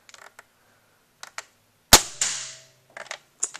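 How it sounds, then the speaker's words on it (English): Toy dart gun firing a single dart: one sharp snap followed by a brief whoosh, surrounded by a few faint clicks and handling noises. "So you can see it's a really, really strong gun."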